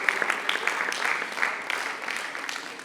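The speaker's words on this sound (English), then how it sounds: "Keep clapping for him, keep clapping for him." An audience at an academic research-writing workshop keeps clapping for a scholar being seated at the high table, a moderately loud patter of many hands with a few sharp nearby claps, easing slightly toward the end.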